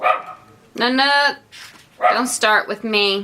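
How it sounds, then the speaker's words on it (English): A dog barks at someone at the door: a few loud, close barks in short bursts, mixed with a person speaking briefly. "That's my dog letting me know someone's at the door."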